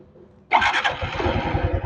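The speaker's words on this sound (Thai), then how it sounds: "นี่ครับเสียงเครื่องยนต์ของเขา" A Honda Wave 110i (2025) fuel-injected motorcycle engine whirs briefly on the starter, catches abruptly and settles into a raspy, fast-pulsing idle, close and loud.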